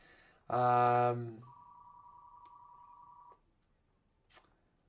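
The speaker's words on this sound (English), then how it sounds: "Love when my house phone rings when I'm on with you guys." A house phone rings once with a loud, buzzy, harmonic-rich electronic trill, followed by a long steady faint tone and a brief click, close and indoors with no talk over it.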